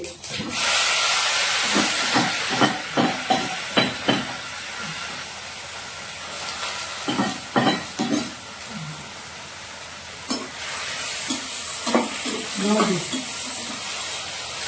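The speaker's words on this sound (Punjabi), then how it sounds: "ਚਲ ਜੀਰੇ ਨੂੰ ਆ ਤੜਕਾ ਲਾ ਦਿੰਦੇ ਆ" Cumin seeds hit hot oil for a tempering, giving a steady loud sizzle and hiss. Scattered sharp pops and crackles come in bursts, with some clatter of stirring.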